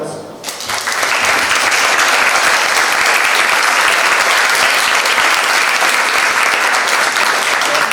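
Sustained applause fills a lecture hall, rising quickly after a brief opening and holding steady and loud for a guest speaker, a biologist giving a talk on Helia Bravo.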